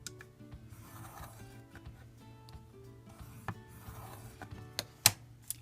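A scoring tool scrapes along paper card on a scoring board in soft, faint rubbing strokes, ending with a couple of sharper clicks near the end.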